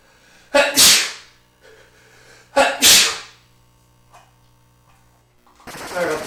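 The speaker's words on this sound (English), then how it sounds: "Sorry about the sneezing." Two loud, sharp sneezes close to the microphone a couple of seconds apart, followed by quiet and a faint voice at the end.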